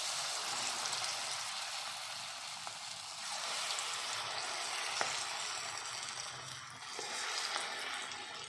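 Moong dal pakoras fry in hot oil with a continuous close sizzle and soft bubbling crackle, a few sharp pops and drops breaking through at intervals, with no voices.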